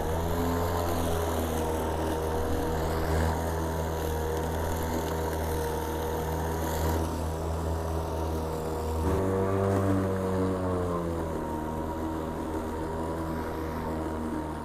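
A Toro Stripe lawn mower with a bag fitted cuts through tall grass, its engine droning loud and close and steady, the pitch dipping briefly as it works under load.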